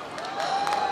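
Crowd applause and cheering at a daily concert by a group, steady, dense clapping with a raised voice or whistle running through it.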